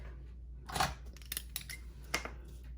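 Scissors snip through ribbon tails on a handmade card at a crafting desk, a few quick close cuts spaced apart over a low steady hum.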